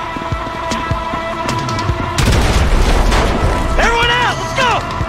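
A loud bomb blast in Grand Theft Auto V erupts abruptly and rumbles on amid debris and chaotic game noise, with voices and whooping alarm-like tones following.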